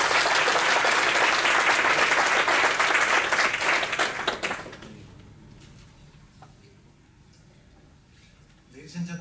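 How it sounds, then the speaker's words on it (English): Warm audience applause for a professor arriving to give an architecture lecture at an event: dense, loud clapping for about four seconds that fades out, followed by a quiet room and a brief voice at the end. "give him a warm applause."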